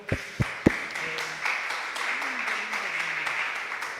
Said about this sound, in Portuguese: Vamos aplaudir para o Senhor